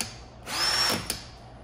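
An 18-volt cordless hammer drill, model HP488D002, whirs up briefly, holds a high whine for about half a second, then spins down with a small click.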